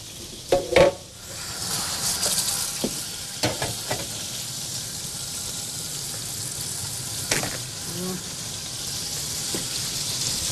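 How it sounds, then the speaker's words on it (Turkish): Food fries in a hot pan with a steady, close sizzle, broken by a few sharp knocks and scrapes of stirring, while voices murmur faintly in the background. "Çok güzel cız, o cız sesi duyduk işte."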